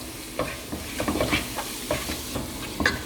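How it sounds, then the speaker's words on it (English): Masala for prawn pulao frying in oil in a pan as it is stirred, a close, soft, steady sizzle with light scraping strokes and small pops, no talking. "Give it a good stir."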